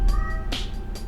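A cat meows indoors at fairly close range, one clear drawn-out meow followed by a shorter call, with no one talking.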